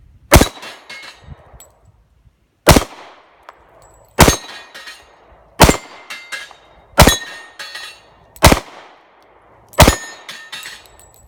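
Smith & Wesson .45 Shield single-stack pistol fired at a range: seven sharp, loud shots spaced one to two seconds apart, each with a brief ringing decay, and no talking.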